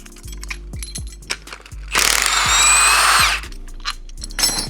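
A power tool, likely an impact gun, spins out 12 mm bolts on a VQ35DE engine during teardown, with one loud sustained burst in the middle, clicks and clinks of metal parts around it.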